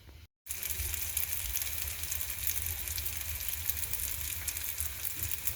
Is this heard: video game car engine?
no